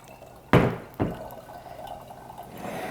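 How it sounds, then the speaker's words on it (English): Water poured through a coffee filter and funnel into a glass mason jar: two quick splashing pours, then a soft, steady trickle of liquid filling the jar close by, with no voices. "I'm just going to run the water through here"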